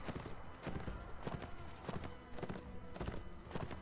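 Horse hooves clip-clopping in a video game, a steady repeating rhythm of soft thuds over a continuous noisy background, with no voices.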